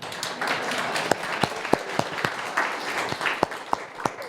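Applause from a seated audience for the bouncer at a tech event: a continuous spread of clapping hands with distinct single claps punctuating it close by.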